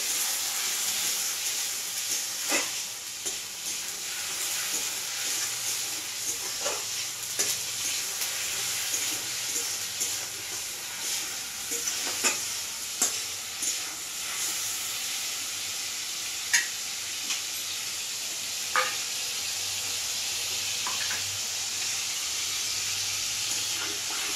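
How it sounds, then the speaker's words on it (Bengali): Onion paste frying in hot oil, a steady broadband sizzle with occasional sharp pops and crackles spread across the whole stretch, close and even, with no voices. "পেঁয়াজটা একটু ভাজবো।"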